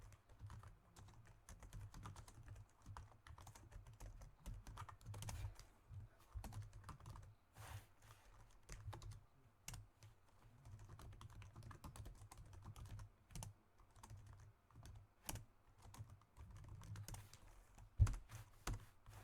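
Steady typing on a computer keyboard, with soft, quiet key clicks tapping in an irregular rhythm throughout and a few sharper strokes standing out.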